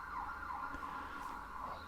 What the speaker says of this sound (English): On cue, sirens.